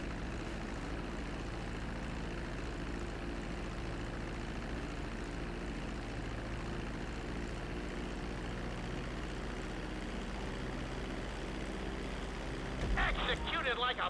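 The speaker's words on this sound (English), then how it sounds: "Now let's get the plane off the runway." A GTA 5 airplane rolls down the runway, decelerating after landing, its engine a steady, dense droning roar that holds evenly throughout, with a brief brighter rattle near the end.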